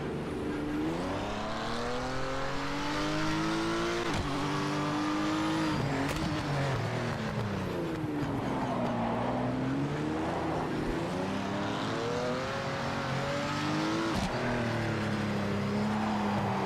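A race car engine in the racing game Project Motor Racing revs and shifts repeatedly, pitch sweeping up and down through corners, with faint squeal from cold tires under the continuous drone.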